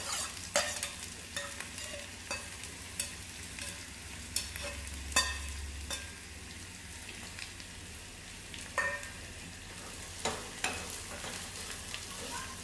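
Two sliced onions in two spoons of oil frying on low gas in a small pan, a steady soft sizzle broken by repeated scraping and stirring clicks, with no talking.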